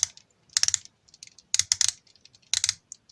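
A Toybiz Spider-Man Planet of the Symbiotes Lasher action figure's plastic joints ratchet in three close bursts of rapid clicks, crisp and near with silent gaps between.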